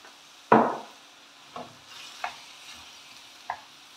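Vegetables in a pan of added oil, cooked for a vegetable gratin: one loud clattering stir followed by a few softer spaced scrapes over a faint, quiet sizzle.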